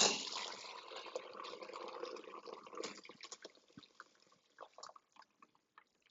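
Hot herb liquid is poured through a strainer into a large container, a close, splashing pour that thins into scattered drips and trickles before fading out.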